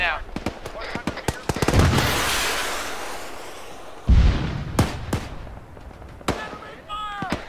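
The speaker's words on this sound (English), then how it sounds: "Okay, I'm shooting tow right now." Arma 3 gameplay of a TOW missile being fired: a heavy whooshing launch blast followed by a deep impact boom, surrounded by sharp, scattered gunshot cracks and distant battle explosions.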